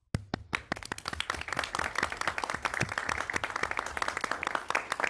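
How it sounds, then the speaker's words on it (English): Applause at a school board meeting: after a single opening clap, a dense crowd clapping swells in and stays steady and fairly close for several seconds. "Pause for applause."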